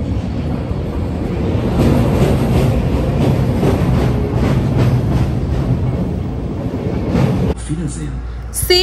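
A train crossing a bridge over the Rhine in Cologne, Germany, heard from on board as a loud, steady rumble and wind roar that cuts off near the end, with someone talking over it.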